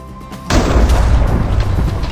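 In Minecraft, a sudden loud boom opens into a dense, rumbling roar of gunfire and explosions, continuing heavily to the end with no voices.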